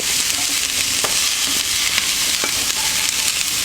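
Cauliflower fries in a pan as turmeric is stirred in, producing a loud, dense sizzle with repeated light scraping strokes from the spoon.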